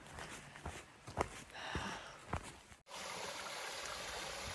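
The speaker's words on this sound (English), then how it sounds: "Crossing the Rattle River again." Rattle River crossing on a hiking trail: steady rushing and trickling of stream water over rocks, near and continuous, with a few sharp splashes or footfalls as someone wades across.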